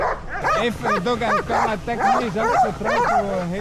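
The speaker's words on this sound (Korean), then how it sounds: "개들이 왜 이렇게 짖나 했더니 위에 드론이 떠 있습니다" Several dogs bark, yip and whine continuously at a drone hovering overhead in Batumi, Georgia, close and loud, with the barks in rapid overlapping bursts.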